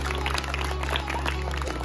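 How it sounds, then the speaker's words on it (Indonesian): Classroom of primary school pupils clapping together, a steady dense patter of many small hands filling the room, loud and close, with chatter mixed in. "Tepuk tangan buat kita semua dulu,"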